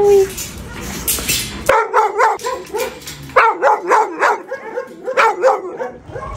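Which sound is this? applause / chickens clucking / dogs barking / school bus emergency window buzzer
dogs barking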